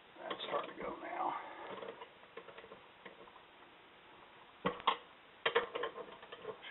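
A socket wrench ratchets on rough nuts while upper control arm shafts are installed, giving quick bursts of faint, muffled clicking near the end after quieter handling noise.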